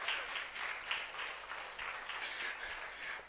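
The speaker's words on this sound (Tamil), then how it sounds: "இப்போ நல்லா தட்டலாம்" An audience at a stage performance event claps steadily, a dense patter of many hands heard from a distance at modest level, continuing without pause.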